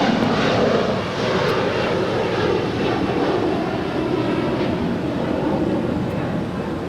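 United airliner taking off from runway 25 right at LAX, a loud continuous engine roar with broad rumble and hiss, holding steady throughout and fading slightly toward the end.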